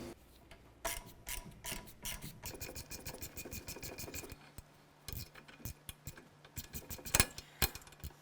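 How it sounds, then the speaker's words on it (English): A hand ratchet clicks in quick bursts while tightening a nut on the rear strut and spring assembly of a 2008–2012 Honda Accord, with short pauses, rubbing metal and a few sharper knocks, close and fairly quiet. "Get our nut started. Let's go ahead and tighten that down."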